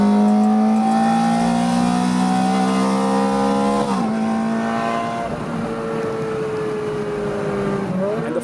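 An 11-year-old red Ferrari F430 revs hard, its engine note climbing in long rising sweeps with a brief dip and gear change midway, loud and close with no talking.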